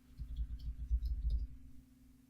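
A few quick, faint clicks of computer keyboard typing, soft and close over a low background hum.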